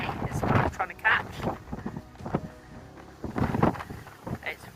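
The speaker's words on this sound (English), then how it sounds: "It's very windy" Strong wind buffets the microphone outdoors by castle battlements and a keep, rushing gusts rising and falling, mixed with a person talking.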